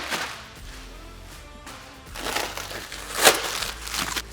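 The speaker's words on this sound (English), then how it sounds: "go ahead and peel your protective film from both sides" Protective plastic film peeled off a SuperATV flip windshield for a Kawasaki Mule Pro FTX, heard as crackly rustling and tearing bursts up close, with one sharp crinkle near the end.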